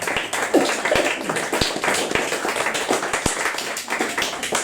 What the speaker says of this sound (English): I'd like to give more applause, please, to Lisa Kelly